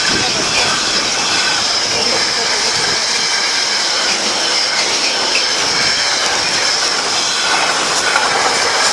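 Class 66 diesel locomotive 66756 rolls past the level crossing at Metheringham, a loud continuous rumble with wheel clatter and rail noise filling the whole stretch, close by.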